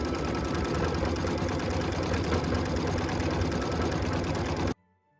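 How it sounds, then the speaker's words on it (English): An embroidery machine stitches a postage stamp border for a Christmas ornament, a rapid, even mechanical chatter running steadily at close range before cutting off abruptly near the end. "Machine step 6 is stitching the postage stamp border"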